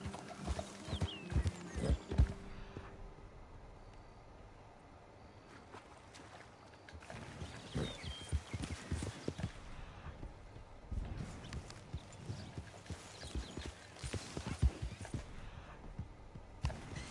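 Horse hooves clip-clopping in Red Dead Redemption 2, steady faint thuds at a walking-to-trotting pace, quiet and low in level, with a brief pause partway before the steps resume.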